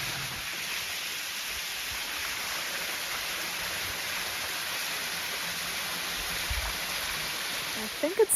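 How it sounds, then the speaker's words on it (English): Stream water flows in Strathcona Park on a chilly October day, a steady hiss of moving water that holds even and moderately close throughout, with a few faint knocks at the very end. "But I do hear some water."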